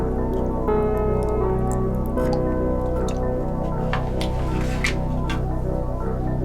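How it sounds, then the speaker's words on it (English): Water trickles and drips into a tarantula's water dish during rehousing, a steady close liquid sound with faint taps, heard alone. "Put some water in."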